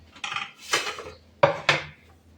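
A knife and metal utensils clatter close by in a home kitchen while vegetables are prepared for pav bhaji, four separate clinking, scraping strikes spaced over a couple of seconds, loud and clear with no voices.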